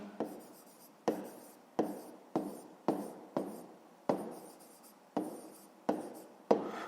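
Pen writing on paper during a 5th-grade maths exercise, about ten short scratchy strokes in a regular rhythm, each a quick burst fading out, close and quiet with no talk.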